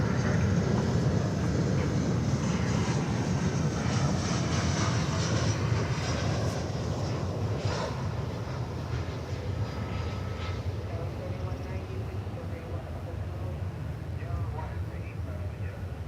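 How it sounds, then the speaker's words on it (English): An Airbus A319 arriving from Monterrey lands on the runway at Dallas Fort Worth Airport, its jet engine roar loud and steady throughout and slowly easing, with talk over the top. "Flight 941 coming in now from Monterrey in Mexico, in Airbus A319."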